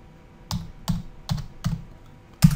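Someone types on a computer keyboard, producing five distinct, evenly spaced key clacks at close range in a quiet room with no talking.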